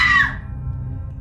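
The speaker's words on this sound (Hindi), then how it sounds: "जोर से चीखने की आवाज़ सुनाई देने लग गई" A sharp, loud scream rings out at the start and fades within a fraction of a second over a low background hum, a dramatized horror effect.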